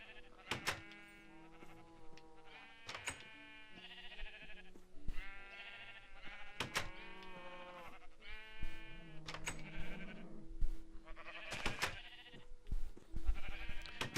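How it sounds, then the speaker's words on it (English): Sheep bleating in the video game Minecraft, repeated short wavering bleats in an irregular rhythm, close and clear, with occasional clicks between calls. "It's because the sheep is pink."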